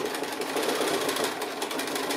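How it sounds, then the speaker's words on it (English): Sewing machine stitching a seam on a quilted gift bag, a steady fast mechanical whirring chatter at moderate volume with no talking. "I'm just going to do exactly the same sort of sewing as we've just done on the bottom edge here."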